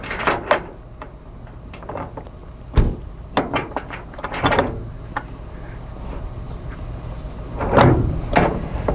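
A metal tie-down clip with a mounting plate and three pins slides along and locks into the bed of an RV hauler, giving sharp clacks and scraping knocks at irregular intervals, close and fairly loud, with no talking.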